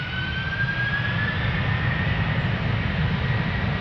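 Delta Airlines jet engines spool up at Amsterdam Schiphol Airport, a steady, broad roar heard at a distance with a faint rising whine above it, and no voices.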